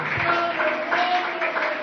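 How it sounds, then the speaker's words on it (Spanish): A church congregation applauding together, a dense, steady wash of clapping from many hands filling the room, with a few voices mixed in. "Dele un aplauso al Señor."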